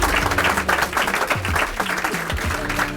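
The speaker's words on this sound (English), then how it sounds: "I would love to have a big round of applause for everybody who worked so hard" Audience applause at a Digital Society School showcase, a continuous round of clapping from a crowd with some cheering and voices mixed in.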